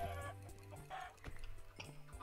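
Blocky chickens cluck in a Minecraft game, a few short, clipped clucks in quick succession, close and fairly quiet, with no voices.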